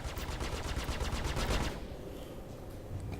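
Rapid automatic gunfire from a gimbaled size 2 ship gun in the Star Citizen space game, a dense continuous burst for about a second and a half that then cuts to a quieter low rumble.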